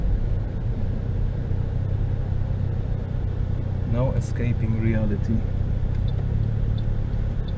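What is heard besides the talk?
car traffic on a Bangkok expressway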